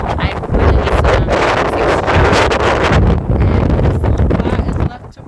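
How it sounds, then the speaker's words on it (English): Strong outdoor wind buffets the microphone in a loud, continuous roar with gusty swells, covering nearly the whole stretch before easing off at the very end. "as you can see it is really windy"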